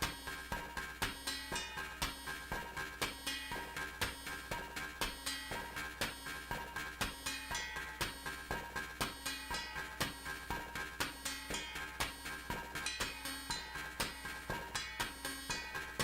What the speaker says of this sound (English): listen to that high, it's called open ride